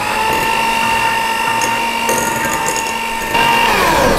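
An electric mixer hums steadily at low speed, folding cornstarch and milk powder into tart batter, with a constant motor whine and faint scraping against the bowl, close and alone without voices.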